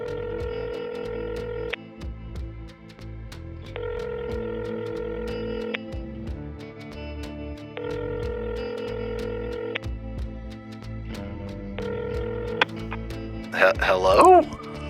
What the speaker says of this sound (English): You make your phone call, and pretty quickly you hear.